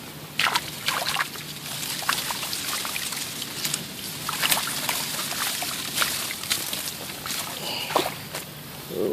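Splashing and sloshing water as someone in mud boots wades in while bowfishing, with repeated uneven splashes close by over steady background noise.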